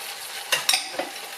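Ground beef and rinsed black beans being stirred in a pot of chunky beef chili, a few close scraping clinks of a spoon against the pot with a soft background hiss.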